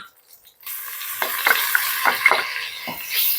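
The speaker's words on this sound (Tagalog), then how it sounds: "habang natutunaw yung butter, ilalagay na po natin yung bawang" Garlic drops into melting butter in a pan, setting off a bright rising sizzle with a few stirring scrapes, after a short near-silent opening.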